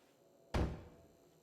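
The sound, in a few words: kicking a locked door in Fallout 4 video game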